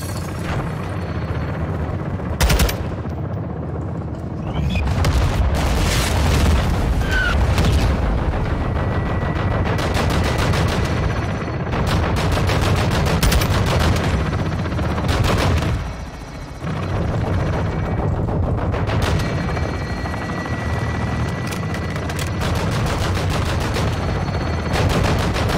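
Sustained Call of Duty: Modern Warfare II gunfire with repeated sharp shots and bursts over a constant roar of battle, likely rotor or engine noise, loud and continuous with a brief lull midway.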